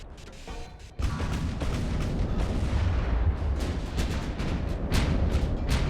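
Main turret guns of a warship firing in the naval game Ultimate Admiral: Dreadnoughts, a heavy booming salvo followed by continuous rumbling cannon fire and scattered blasts, loud and sustained.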